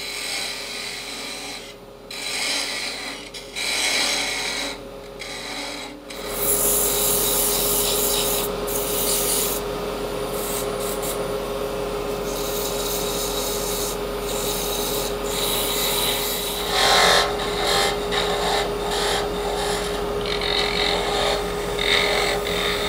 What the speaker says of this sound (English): I'm gonna sand the spindle and part it off the lathe